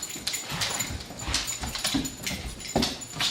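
A German Shepherd puppy left indoors whimpers and yips close by in short, high-pitched bursts, several plaintive cries spread unevenly over a few seconds with quiet gaps between them.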